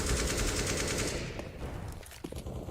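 Rapid automatic gunfire in Counter-Strike on the Inferno map during a competitive match, a dense continuous rattle that thins out about halfway through, leaving scattered shots and game sounds.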